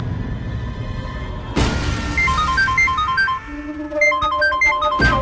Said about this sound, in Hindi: देर रात को वीर जी का फोन